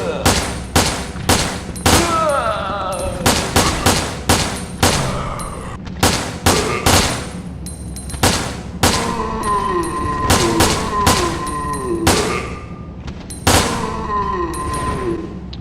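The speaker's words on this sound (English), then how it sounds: "You time your shots right, you can almost make it an automatic handgun." Rapid handgun shots from Resident Evil: Dead Aim fire in quick bursts of sharp cracks, loud and close, with short pauses between clusters across the whole stretch.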